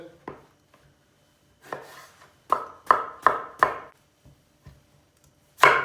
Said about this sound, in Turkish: Patates de aynı şekilde doğrayacağız.